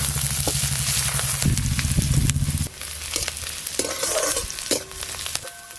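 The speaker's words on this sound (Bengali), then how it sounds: "পেঁয়াজ আর শুকনো লঙ্কা একটু হালকা করে ভেজে নিয়েছি।" Chopped onion and dried red chilli frying in oil, a close, lively sizzle broken by repeated scraping and clanking strokes of a spatula against the pan, fairly loud, with no voices.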